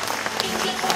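Brief burst of dense crowd applause at a Democratic United Party joint campaign rally in Gwangju, steady clapping filling the hall with a voice faintly mixed in.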